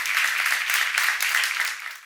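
Church congregation clapping together in a dense, steady patter of many hands that fades slightly at the end.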